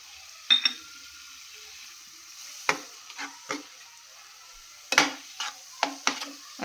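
Semolina being stirred and roasted in a pan for beetroot laddoos: sparse scraping strokes of a spoon against the pan, spaced irregularly over a quiet background, close and without speech.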